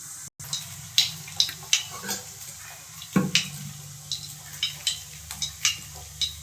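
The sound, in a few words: mustard seeds spluttering in hot oil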